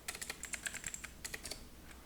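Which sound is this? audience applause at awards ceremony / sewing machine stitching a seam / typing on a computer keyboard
typing on a computer keyboard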